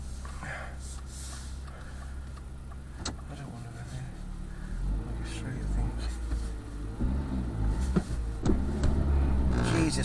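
A Ferrari's engine rumbles low and steadily from nearby, swelling slightly toward the end, beneath people talking.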